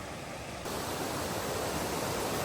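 A creek rushing far below a steep, rocky gorge gives a steady, broad roar of flowing water that grows slightly louder partway through and continues unbroken.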